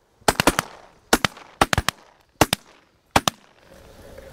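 Shotguns fire during a duck and goose hunt, a rapid volley of about a dozen sharp, loud blasts in quick clusters of two to four shots, close by with short quiet gaps between bursts.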